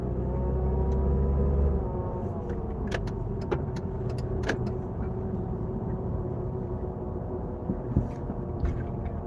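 A car drives along a road, heard from inside. The engine and road noise form a steady low rumble, with a few brief clicks and knocks over it.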